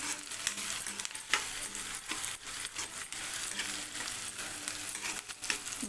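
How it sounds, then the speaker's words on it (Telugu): Onions sautéing in a pan for a boneless chicken gravy give off a steady, close sizzle, with scraping stirs and small clinks from the spoon against the pan. "కొంచెం గోల్డ్ కలర్ చేంజ్ అయ్యే వరకు అయితే ఉల్లిగడ్డను అయితే వేగనివ్వాలి"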